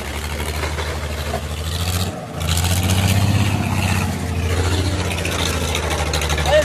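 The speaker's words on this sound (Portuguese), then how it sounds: "Não, não adianta não, estourou a biela." A car engine with a blown connecting rod runs roughly with a heavy, uneven knocking rumble, briefly dipping before surging back, loud and close.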